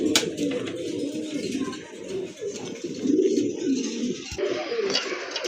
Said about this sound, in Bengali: আরেক জোড়া কবুতর মাশাআল্লাহ দেখার মতো এক জোড়া কবুতর।